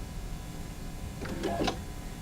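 A sewing machine hums steadily at close range during free-motion stitching around appliqué pieces, with a few brief clicks near the end.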